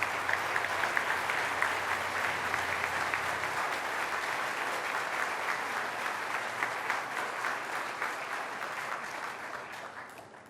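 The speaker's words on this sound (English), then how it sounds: "a huge round of applause to her and to Sam" Sustained audience applause at a wellness center ribbon cutting ceremony, dense and even clapping from a sizable crowd that holds steady before slowly tapering near the end.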